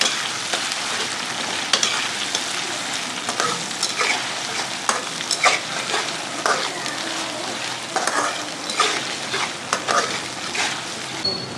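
Chopped tomato and two green chillies sizzle and crackle in a hot pan, with repeated scraping stirs over a steady frying hiss, close up and free of speech.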